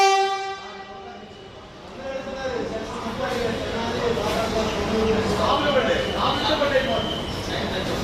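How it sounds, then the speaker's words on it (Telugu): At a station's platform 1, the Secunderabad–Tirupati Vande Bharat AC superfast express sounds a long horn, then a steady, swelling rumble of rail cars rolls in close by, with voices underneath. "train number 20701 Secunderabad Tirupati Vande Bharat AC superfast express is coming on platform number 1"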